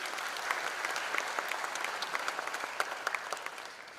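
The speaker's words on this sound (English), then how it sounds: "have a round of applause for yourselves" Audience applause at a college freshers' induction program, a steady crowd of clapping hands at moderate level throughout, dense and even with scattered sharper claps.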